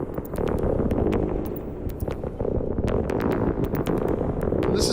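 Modular synth patch run through a MiniVerb reverb unit gives a dense, crackling wash of noisy low rumble with scattered sharp clicks and pops, continuous and fairly loud with no speech.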